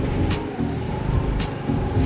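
A car engine hums steadily at close range as the vehicle turns to park beside a village temple, with no voices and some faint hiss above the running motor.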